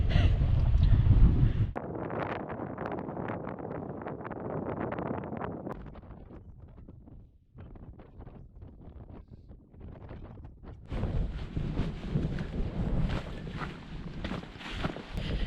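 Wind buffets across open Dartmoor moorland in uneven gusts, roaring loud at first, easing to a softer rustle, then surging strongly again near the end.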